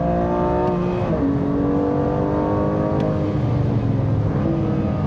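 A BMW M2 Clubsport (F87) engine revs up through the gears on a circuit, a loud steady whine rising and dropping in pitch with each shift.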